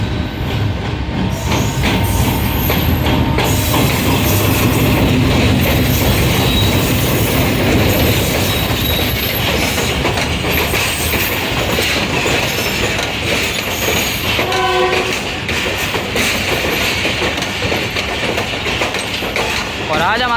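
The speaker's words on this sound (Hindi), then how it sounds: "सामने 27 अब शालीमार एक्सप्रेस अराइवल कर रही है हैदराबाद जंक्शन पर" The Shalimar Express pulls into Hyderabad Junction with a continuous loud rumble of railcars and clattering, squealing wheels. Brief tonal bursts near the end may be its horn, and a voice talks over the noise.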